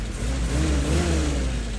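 A 77-year-old Willys jeep engine revs with a slight carburetor hesitation, a steady close mid-range engine roar holding for under two seconds with no talk.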